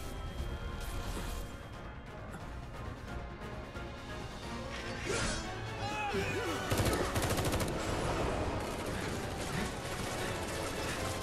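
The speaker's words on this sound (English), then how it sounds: "So many bullets. So many misses." Dense, sustained gunfire from enemy soldiers in the Final Fantasy 7 Remake video game, rapid bursts layered with crashes and mechanical clatter, loud and continuous throughout.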